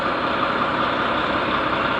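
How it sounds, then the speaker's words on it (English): A huge truck idles nearby, its heavy engine giving a loud, steady low rumble with a broad mechanical hum that holds constant throughout, with no voices. "It's just a truck going here."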